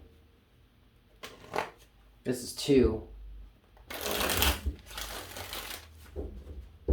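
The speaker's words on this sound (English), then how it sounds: "3 shuffles for you, Scorpio." Cards being shuffled in several crisp riffling bursts, close to the microphone, with a person speaking briefly between them.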